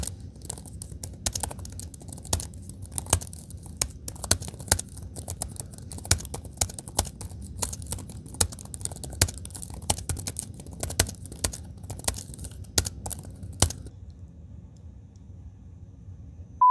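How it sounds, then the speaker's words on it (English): Rapid, steady typing on the keyboard of a 2019 Samsung Notebook 9 Pro laptop, a close run of light plastic key clicks with no talk, stopping abruptly near the end. "I'm gonna let you listen to how the keyboard sounds on here"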